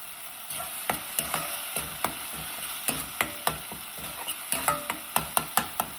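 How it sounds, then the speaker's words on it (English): Tomatoes for lentil dal cook in a little oil, with a soft sizzle underneath while a spoon stirs them, giving a steady run of close, crisp taps and scrapes against the pan. "Keep stirring in between."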